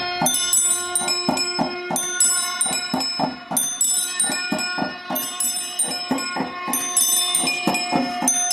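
A homemade puja aarti bell-ringing machine built from scrap materials strikes its bell in quick, steady succession, producing loud, close metallic rings with lingering overtones and no talk.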